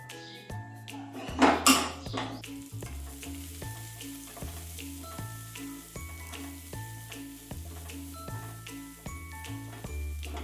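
Onion, tomato, ginger and garlic masala frying in a pan, a steady sizzle broken by rhythmic scraping and clinks of a metal spoon stirring against the pan, close up with no talking.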